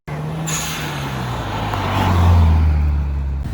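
Subaru Impreza WRX STI engine revving up close with a loud, steady drone that rises in pitch and then eases off slightly, with no talk over it.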